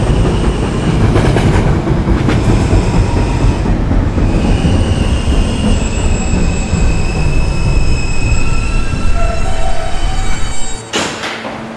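An NYC subway R train running at night, wheels clattering and squealing loudly along the rails for most of the stretch before the noise drops off abruptly near the end.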